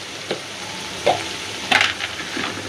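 Food sizzling and frying in a pan, with a few scraping stirs and sharp crackles standing out over a soft steady hiss.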